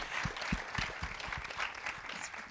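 An audience at a panel discussion after a documentary screening applauds, a dense patter of clapping at moderate distance that holds steady for a couple of seconds.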